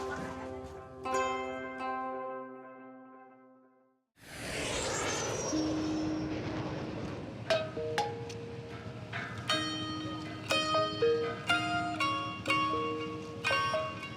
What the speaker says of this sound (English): After a 2-hour flight from Kuala Lumpur, I land in Borneo